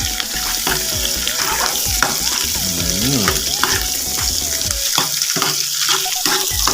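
Continuous sizzling and scraping as grated coconut with shrimp paste is stir-fried around a hot wok, with clinks of a utensil against the metal, steady and close.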